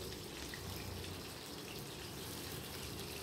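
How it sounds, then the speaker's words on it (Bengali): Hot oil sizzling steadily as pointed gourds (potol) are fried in a pan, a continuous soft hiss with no talking. "তেল গরম হয়ে গেছে আর আমি পটলগুলো এক এক করে ছেড়ে দিচ্ছি"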